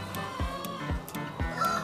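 Chickens on an egg farm cluck in short repeated bursts, close and fairly loud, with a higher call rising briefly near the end; no one speaks.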